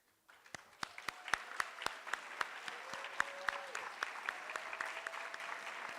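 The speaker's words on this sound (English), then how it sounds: "let's recognize all the families in the room that have adopted in the past with a quick round of applause" An audience at a Delaware National Adoption Day event breaks into a round of applause, with sharp individual claps standing out over a steady wash of clapping that builds and holds. The applause is fairly quiet and distant, and a faint voice sounds at the end.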